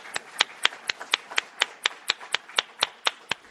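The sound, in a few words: audience applause for panelists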